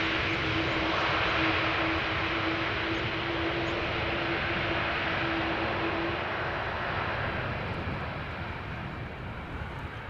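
A jet airliner arriving at Amsterdam Schiphol Airport gives a loud, steady broadband engine roar with a sustained low whine, holding for ten seconds and fading only slightly.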